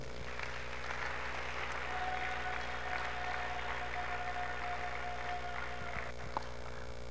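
A church congregation applauds steadily for several seconds, a dense continuous patter of many hands over a low electronic hum, with no voice rising clearly above it.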